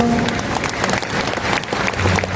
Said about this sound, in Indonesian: Kita berikan aplaus yang dahsyat untuk Kapten Nurholis